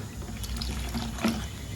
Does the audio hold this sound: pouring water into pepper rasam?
yes